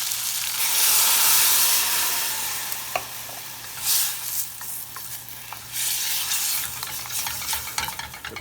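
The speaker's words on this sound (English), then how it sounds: "So adding the stock." Stock poured into a pan of sizzling red peppers sets off a loud hiss of steam and frying that fades and surges, with brief spoon clinks and stirring scrapes, no voice.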